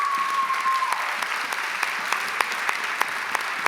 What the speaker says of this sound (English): can we give him like a big old round of applause wherever he is?